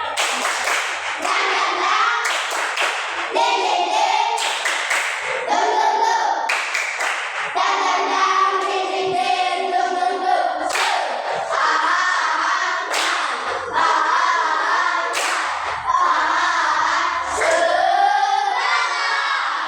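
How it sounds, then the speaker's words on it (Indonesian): A standing school class performs a rhythmic spirit clap, tepuk semangat: sharp, loud, close hand claps in patterned bursts with brief pauses, voices chanting along between the beats. "maka kita lakukan tepuk semangat"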